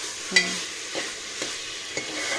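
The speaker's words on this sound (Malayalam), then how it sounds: "എണ്ണക്കകത്തിട്ട് കുറച്ച് നേരം നന്നായിട്ട് വഴറ്റണം" Ingredients for a spicy beef curry sauté in hot oil with a continuous close sizzle. A spoon knocks against the pan once, then three more soft stirring taps follow at regular intervals, with no talk.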